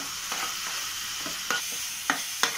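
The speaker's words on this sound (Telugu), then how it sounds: "దీంట్లోనే ఆనియన్స్ పేస్ట్ కూడా వేసుకోవాలి. ఇది కొంచెం గోల్డెన్ కలర్ వచ్చే వరకు బాగా వేయించుకోవాలి." Onion paste frying in a pan for mutton keema, a steady close sizzle broken by several sharp scraping stir strokes, with no talking.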